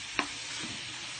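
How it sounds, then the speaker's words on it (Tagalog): Pork for sisig sizzles in a pan, a faint steady hiss with a single sharp clink of a utensil at the start. "Takpan muna natin para lulutuin muna natin yung karne."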